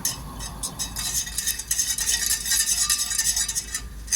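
A spoon stirs a coffee jelly mixture with dissolved gelatin in a pot, giving a steady run of soft scraping and swishing with light clinks, close by and alone.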